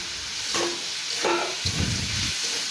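Vegetables cooking in a pan for a Chinese-style vegetable dish, a close hissing sizzle broken by a few short stirring scrapes and clatters.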